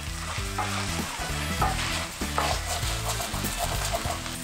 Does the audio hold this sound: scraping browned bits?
yes